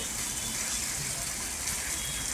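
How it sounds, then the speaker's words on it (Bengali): Water poured into a pan of prawn curry masala, a continuous close gushing splash that runs steadily for the whole couple of seconds. "এবার আমি আর একটু জল দিয়ে দিচ্ছি"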